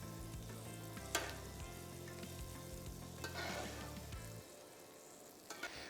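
A New York strip steak sizzles in a pan as it is basted with butter, thyme and bay leaf, a quiet steady crackle broken by spoon scrapes and a louder spitting burst, with a low hum underneath that stops partway.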